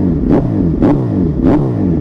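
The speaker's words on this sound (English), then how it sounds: "That Brock's full exhaust is humming." A motorcycle fitted with a Brock's full exhaust revs three times in short, sharp bursts over a steady close idle, each blip rising and falling quickly.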